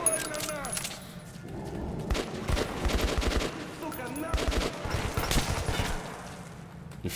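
Rapid bursts of automatic gunfire in the video game Metro 2033 Redux, with repeated loud volleys and shots filling the whole stretch, dense and continuous with brief lulls.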